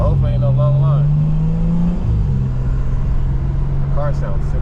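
A BMW M3 Competition G80 engine pulls hard with a rising, sustained note that then settles into a steady drone while the car cruises, with someone talking over it.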